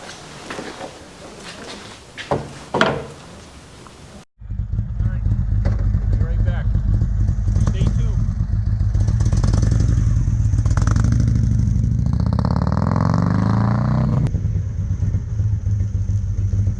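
An Indian motorcycle with newly rebuilt front suspension forks runs on a test ride, a loud steady engine drone with wind rush filling most of the clip after a brief stretch of quieter sound at the start.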